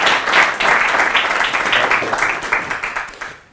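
A lecture audience at Westmont breaks into warm applause to welcome Dr. Randall Balmer, a dense, steady wash of many hands clapping that holds for about three seconds before tapering off.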